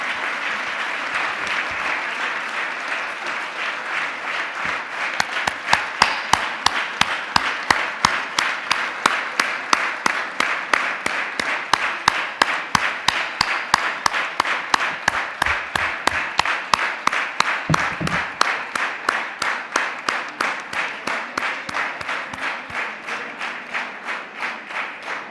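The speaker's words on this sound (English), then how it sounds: "Sous vos applaudissements, mesdames et messieurs." Audience applause closes the 2022 ADEA Triennial closing ceremony, a dense, sustained clapping from a large crowd that swells after a few seconds and carries on evenly for about twenty-five seconds without talk.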